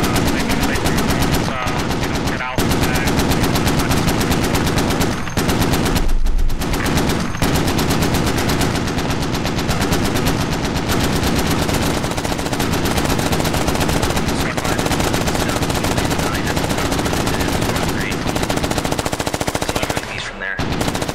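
A .50 cal machine gun in the game Squad fires in sustained heavy bursts, loud and close, with short pauses between strings of rapid shots, and faint voices underneath.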